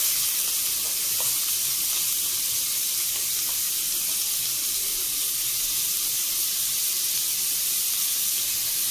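Onion and garlic paste sizzling in hot frying oil, a steady hiss throughout with no voices.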